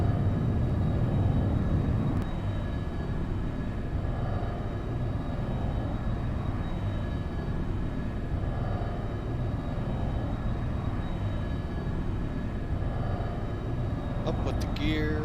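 Boeing 707-120B jet engines at full power on the takeoff roll in the X-Plane 12 simulator, a continuous low engine rumble and whine at steady loudness throughout, with no one talking.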